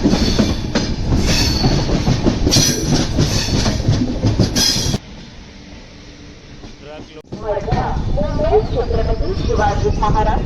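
A train rumbles and clatters close by, slowing with squealing wheels as it arrives at Sangameshwar Road railway station on the Konkan Railway; people talk loudly over it before a brief quieter stretch, then the noise returns.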